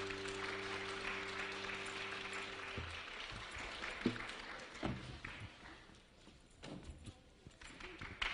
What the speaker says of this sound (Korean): 저희 수고하신 솔기팀에게 다시 한번 좀 큰 박수 부탁드릴게요